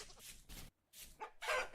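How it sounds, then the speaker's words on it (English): Chickens cluck in the video game Vintage Story, with a few soft, brief clucks and calls in short bursts, faint and close, separated by a moment of quiet. "Over here, my chickens."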